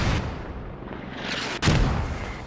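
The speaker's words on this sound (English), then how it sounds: "Mortars landing close, almost hitting the chopper." Mortar rounds land near a hovering helicopter in the game Squad, two distinct heavy impacts a second apart over a continuous engine drone, no one speaking.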